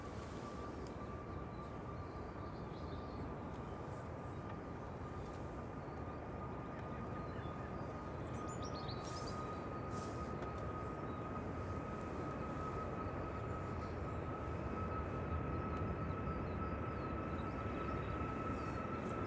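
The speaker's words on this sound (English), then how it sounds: "That's a MAX 8 departing." A Boeing 737 MAX 8 departs Manchester Airport on a gusty day, a steady loud jet roar with a sustained engine tone that holds and slowly builds toward the end, no voices.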